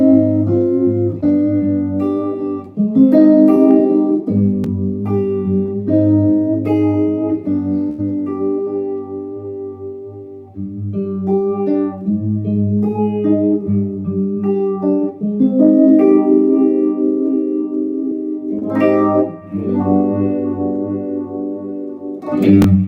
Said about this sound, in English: you can blend in the phaser again.